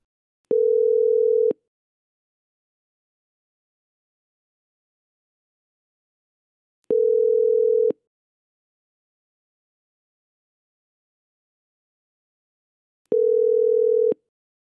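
Desk phone on line 1 sounding three separate steady call tones after click-to-dial, each lasting about a second with long silent gaps between, clear and alone.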